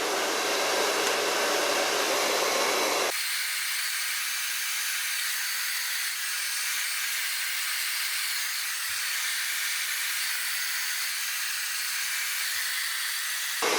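An Ibiza Hair RLX4 hair dryer blows on its low setting with a loud, steady, close airy roar, briefly louder and deeper at the start, then running evenly with no talking.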